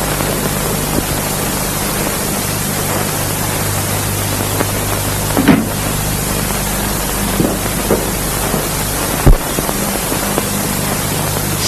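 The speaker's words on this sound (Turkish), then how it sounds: "Sert bir rüzgar esiyor galiba." Strong wind blows in a steady, loud, hissing roar that fills the whole stretch, with a couple of brief gusty thumps breaking through along the way.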